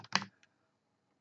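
Two or three sharp plastic key clicks from a computer keyboard pressed as a shortcut combination during a ZBrush sculpting session, quick and close, followed by a faint single click and then quiet.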